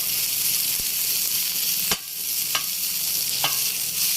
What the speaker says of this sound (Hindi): प्याज को इतना फ्राई करना है कि इसका कच्चापन बिल्कुल खत्म हो जाए